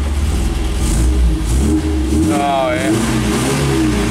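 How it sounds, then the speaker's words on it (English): A 1970 MGB GT engine idling then revving up, a loud, close rumble that rises in pitch, with someone speaking briefly over it. "And she'll push her rev up."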